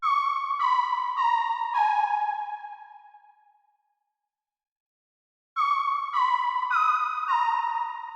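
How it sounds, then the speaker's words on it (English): Synth energy preset from an SRX bank used sparingly as ear candy in a dark R&B beat: a short phrase of bright, ping-like tones decaying into silence, then repeating. "We got the synth energy,"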